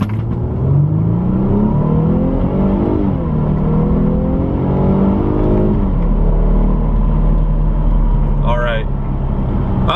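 A car with a Pedal Commander throttle controller in Sport Plus mode accelerating hard on a road with patches of ice, the engine revving up in loud climbing sweeps through several gear shifts.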